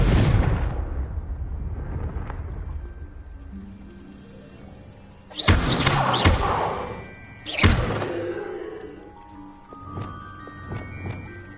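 Confringo blasting curse in Hogwarts Legacy, a loud fiery explosion burst followed by a second blast about two seconds later, each with a crackling tail and lingering debris rumble, after quieter spell effects and with no voices.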